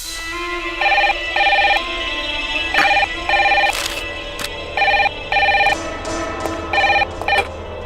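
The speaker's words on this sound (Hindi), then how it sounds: "फोन था सुमित?" A telephone rings in repeated short electronic bursts, paired pulses with brief gaps, loud and close over a faint background murmur.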